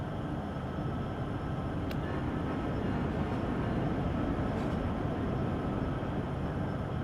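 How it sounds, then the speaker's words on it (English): Oil train passing on Cajon Pass in snowy, misty weather, a steady broad rumble holding even and loud throughout with no clear horn or speech. "There's another train coming out of the mist."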